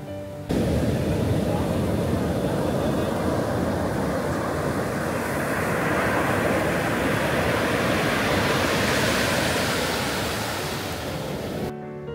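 Ocean surf roars continuously on the beach at Puri, a broad steady wash of breaking waves that swells slightly midway, then cuts off abruptly.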